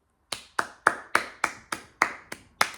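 Nine sharp hand claps at a steady, even pace, close and clear with nothing else around them, from a worship flag ministry tutorial.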